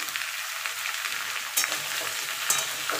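Mixed vegetables for a vegetarian curry frying in a pan, a continuous close sizzle broken by a few sharp scraping stirs of a spatula.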